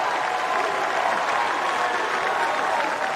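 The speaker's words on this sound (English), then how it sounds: "there's the UVA fence standing up cheering now" A packed stadium crowd at a 2024 US Open fourth-round tennis match applauds and cheers in a dense, steady roar of clapping that holds at a loud level throughout.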